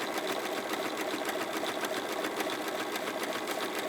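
A sewing machine stitches a fabric bag in a fast, even run of needle clatter, steady and close for the whole stretch, with no voices.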